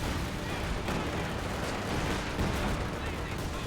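Incendiary artillery barrage in the World War II strategy game Company of Heroes 2, a continuous dense rumble of shell impacts and burning, steady and heavy, with a commentator talking over it.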